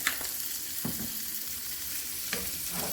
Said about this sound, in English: add in my onions, all right, I'm going to put in my minced garlic.